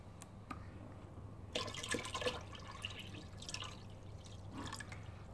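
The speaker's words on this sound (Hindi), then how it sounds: "तो और थोड़ा पानी डाल दें" Water splashes and pours onto a fabric two-seater sofa in a few short bursts, fairly quiet against a low steady hum.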